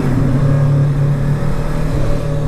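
A stock, quiet motorcycle engine drones steadily inside a tunnel, a loud, close, enclosed hum with a constant low pitch and no talking.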